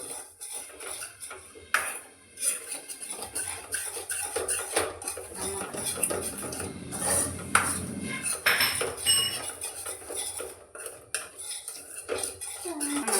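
Spices are stirred in coconut oil in a pan for pork curry, a metal spoon clanking and scraping against the pan in steady repeated strokes with ringing knocks, close and clear with no talking.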